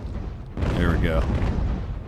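A heavy boom of ship cannon fire in the naval battle game Ultimate Admiral: Age of Sail, a single loud blast that rolls on briefly, with someone speaking over it.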